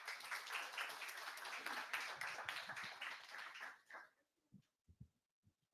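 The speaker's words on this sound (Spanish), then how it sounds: "Un aplauso." A small audience at a Tolkien reading day claps for about four seconds, a fairly close patter of hands that cuts off and leaves only a few scattered taps and soft thumps afterward.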